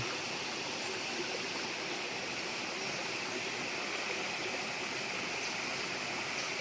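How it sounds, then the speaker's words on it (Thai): Steady, even rush of a mountain stream flowing through a bamboo forest, a continuous broadband wash of running water heard close and alone, without talk. "ถัดลงมาก็เป็นลำธารครับ"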